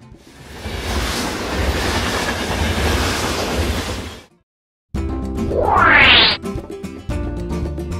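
A monorail train rumbles past with a steady rushing roar for several seconds, then silence, followed by a rising whine amid mechanical noise.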